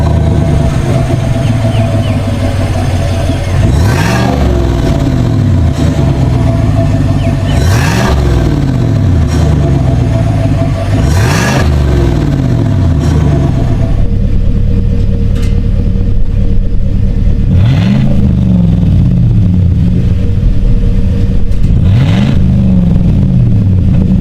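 A 2019-2025 Chevrolet Silverado or GMC Sierra with a 5.3L V8 and aftermarket dual rear exit exhaust with polished 4-inch tips, revved repeatedly in loud, close bursts that climb and fall back to a deep rumbling idle.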